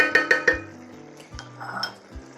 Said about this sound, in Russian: Я убираю крышку